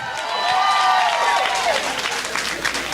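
An audience at a comedy show claps briefly with a few voices and cheers, a short swell of clapping that peaks early and thins out.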